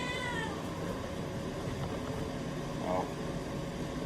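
A cat meows briefly at the start and again more faintly a few seconds later, over a steady low engine-like rumble.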